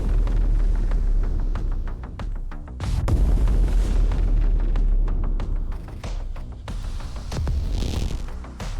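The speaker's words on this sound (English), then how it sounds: "Look at that fancy explosion." Booming explosions in the arcade survival video game Fireball 2, a rapid series of loud bursts with deep rumbling tails, some stacked close together, others spaced apart, over continuous game noise.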